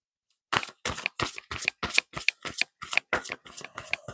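Tarot cards being shuffled by hand during a love reading, a quick run of about a dozen crisp riffling bursts in steady rhythm, close and moderately loud, following a brief silence.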